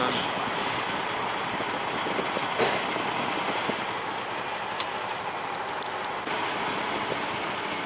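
A semi truck rumbles steadily as it pulls a trailer out of a parking spot, a continuous low engine drone with a few faint clanks over it.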